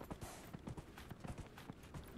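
Elk mount hoofbeats in the video game Dragon Age: Inquisition, a steady rapid clip-clop of hooves at a run, fairly faint under a dense windy ambient wash.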